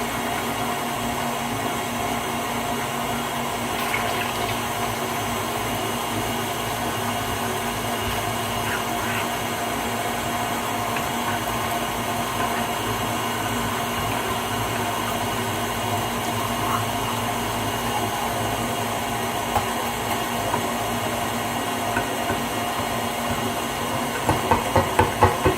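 A KitchenAid grinder runs continuously in a kitchen with a steady whirring, hissing motor drone that holds level throughout and ends in a few louder clunks.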